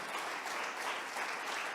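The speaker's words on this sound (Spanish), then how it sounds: "Fuerte ese aplauso a nuestro Dios." A church congregation claps together, a brief, fairly quiet patter of many hands with a slightly uneven rhythm, heard alone without any voice.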